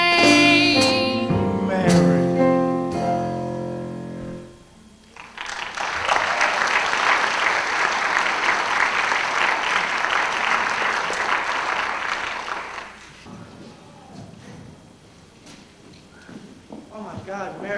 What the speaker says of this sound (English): listen to that applause out there